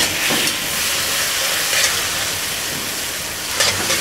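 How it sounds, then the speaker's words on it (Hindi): Masala and tomatoes fry in a pan for a dhaba-style karela piyaz, giving a steady, close sizzle with brief swells from stirring, and no voices. "मसाला जात को हमने 2 से 3 मिनट के लिए अच्छे तरीके से भूनना है"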